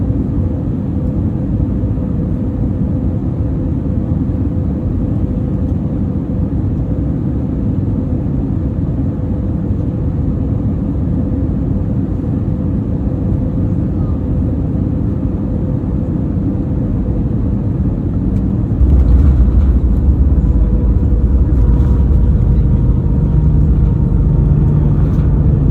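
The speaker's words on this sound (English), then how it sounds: "Well, wasn't that a smooth landing?" Inside an SAS Plus Airbus A320 autolanding in thick fog on the Oslo to Stockholm route, a loud, continuous cabin rumble and engine drone persists, with a heavier low thump near the end as the aircraft touches down.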